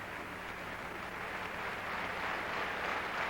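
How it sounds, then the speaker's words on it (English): Crowd at the 1987 World University Games gymnastics finals chanting and applauding, a continuous wash of clapping and voices that grows slightly louder toward the end. "And the crowd chanting"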